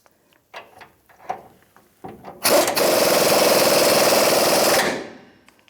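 A half-inch breaker bar snugs a leaf spring front shackle bolt on a 1992-1996 Ford F-150 to a dead stop: a loud, steady grinding, ratcheting burst lasting about two seconds, close by, after a few scattered knocks and clicks.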